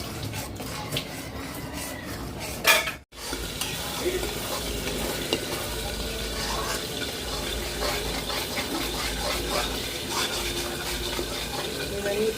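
A spoon stirs cashew and sour yogurt paste in a pan for Hilsa fish biryani, wet scraping and sloshing continuing steadily up close after a brief clatter and pause, no voices.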